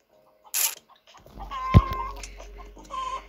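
Short, clipped clucks from a chicken in a Minecraft obby game, with a sharp thump in the middle and a couple of higher chirps around it.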